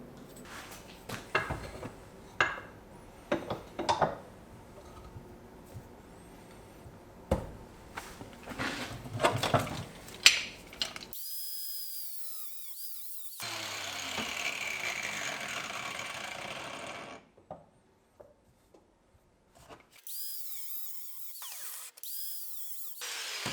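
Rotary polishing wheels working a thin-shelled cast bronze moon. Scattered clanks and handling knocks come first, then a sustained whirring grind that spins up and down, near and moderately loud.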